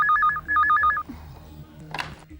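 A telephone rings in a Hindi TV drama scene, two bursts of fast warbling electronic trills, followed by faint rustling and a brief clatter.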